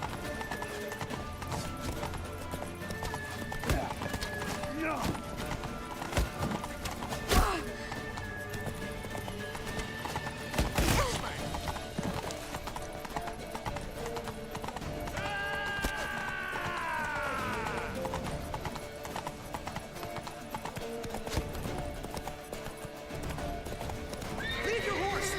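Hooves clip-clop at a gallop in The Witcher 3, with horses neighing and whinnying, all mixed under excited voices and game music throughout.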